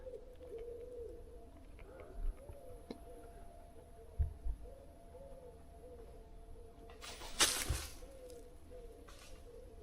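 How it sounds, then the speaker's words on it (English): Birds call at night near a campsite: a faint, low, repeated cooing like a dove or pigeon, with a few soft thumps and a brief louder rustle partway through. "Just birds, mate, just birds."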